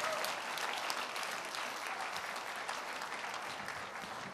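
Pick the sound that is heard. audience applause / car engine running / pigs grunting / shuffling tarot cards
audience applause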